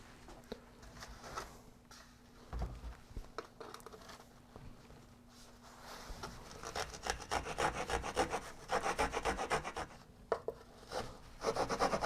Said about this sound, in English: so we have to file this down